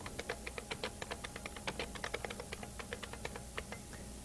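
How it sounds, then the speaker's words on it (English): Rapid, uneven keystrokes on a computer keyboard as a long file name is typed, a close, steady patter of clicks with no talking. "I'll try to type a long file name here."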